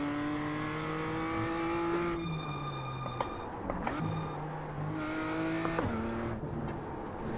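Race car engine in a sim racing game, a close, high-revving whine that climbs in pitch, then drops sharply at several gear changes, with brief clunks at each shift.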